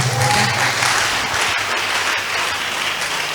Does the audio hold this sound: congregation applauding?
yes